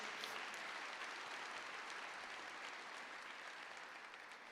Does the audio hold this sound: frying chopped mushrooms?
no